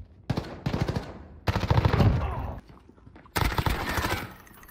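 Gunfire in a video game gunfight: three loud bursts of rapid automatic fire, each lasting about a second, separated by short quieter gaps with faint echoing tails.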